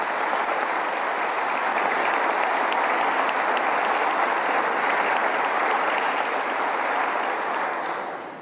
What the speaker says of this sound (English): maybe you could give them a round of applause